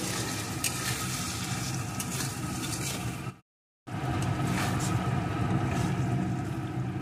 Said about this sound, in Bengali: এখন সমস্ত মশলাটা সুন্দর করে কষিয়ে নেব।